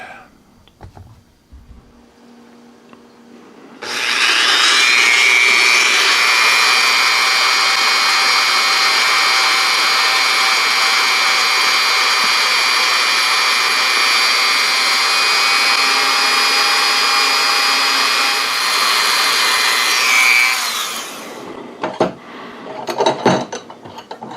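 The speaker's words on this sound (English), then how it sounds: "So what we want to do is we're going to polish this inside edge, and then we're going to polish this outside edge" Steady high-pitched whir of a rotary polishing tool working the extractor of a Taurus Spectrum pistol, running loud and continuous for about sixteen seconds before spinning down, followed by a few clicks.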